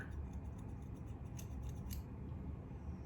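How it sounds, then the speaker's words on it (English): Scissors snipping through long hair during an at-home layered haircut, a close, steady crunchy cutting sound running continuously with faint brighter snips, no talking. "you kind of want to go in there and kind of give it a nice little even cut"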